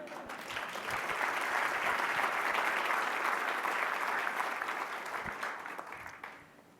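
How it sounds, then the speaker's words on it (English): A large conference audience at a patient safety summit breaks into sustained, even applause that holds steady for several seconds before fading out at the end. "A big round of applause to you."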